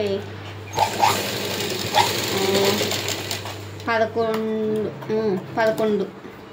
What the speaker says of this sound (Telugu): నా మిషన్ అయితే కొంచెము ఎక్కువ సౌండే ఉంటుందండి